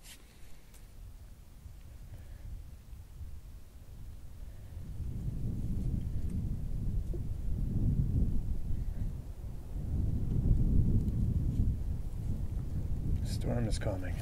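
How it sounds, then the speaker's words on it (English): Low rolling thunder of an approaching storm outdoors, long deep rumbles swelling and fading in two waves over steady wind noise. "Storm is coming."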